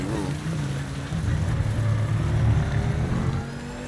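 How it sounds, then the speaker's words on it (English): A Lamborghini in the racing game Project Motor Racing on Xbox Series X hums with a low, thin, continuous engine drone that swells slightly midway and holds steady throughout. "Car doesn't sound too great for the Lamborghini, if you ask me."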